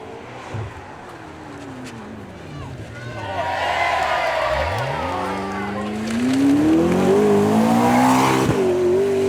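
A supercar launches away on a demo run at the Beaulieu Supercar Weekend, its engine note climbing through the gears as it pulls away. Crowd noise and a commentator's voice sit underneath.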